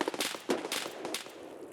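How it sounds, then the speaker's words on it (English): Distant gunfire in the Escape from Tarkov shooter game cracks out as several sharp, fast shots in a quick burst, echoing faintly across open ground. "With lots of gunfire ringing off in the distance"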